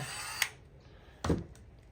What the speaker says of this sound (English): Drill a hole in the sleeper.